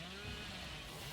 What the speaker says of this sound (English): Wow, what a chainsaw.